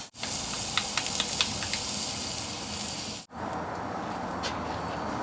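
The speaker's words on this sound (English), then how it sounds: "We're going to get this in the skillet and we're going to get some colour on it." Sliced onions sizzling in a skillet on a Hellrazr Yama pellet grill, a steady, quiet frying hiss with a few faint crackles and pops.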